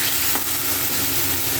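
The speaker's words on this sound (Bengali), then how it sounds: "এরপর আলু আর মশলা ভালো করে ভেজে নিয়ে" Potatoes and spices frying in a pan, a dense, loud, continuous sizzle with one brief stirring scrape near the start, heard up close without any voices.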